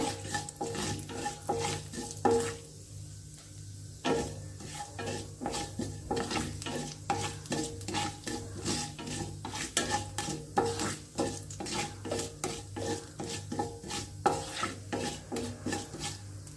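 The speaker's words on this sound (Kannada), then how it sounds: "ನೋಡಿ ಒಗ್ಗರಣೆ ಆಗ್ತಾ ಇದೆ" Urad dal and turmeric tempering (oggarane) sizzles steadily in hot oil for a Havyaka dish, with repeated scraping and stirring strokes of a spoon against the pan running throughout, fairly close and continuous.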